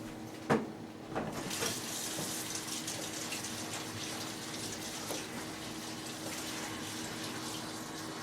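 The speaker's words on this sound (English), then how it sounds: "Everybody wash their hands, right?" A kitchen tap runs as hands are washed, a soft steady stream with a couple of splashy bumps near the start, fairly quiet and with no one talking.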